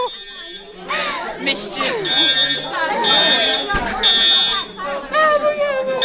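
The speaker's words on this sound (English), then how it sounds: "Wait, did you pull the fire alarm?" Fire alarm sounding indoors as a high, steady electronic tone that cuts in and out, under excited chatter and shouting from several people.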